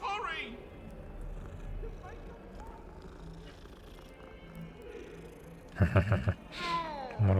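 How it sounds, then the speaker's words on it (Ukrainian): A cat meows in the video game Hogwarts Legacy, a few short cries near the end after a stretch of game ambience and speech, fairly close and clear. "О, котик."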